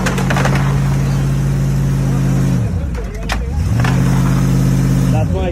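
A Hummer's engine revs hard and steady as the driver tries to pull away from a blocked street, dropping briefly mid-way before surging again loud and close, with people talking over it.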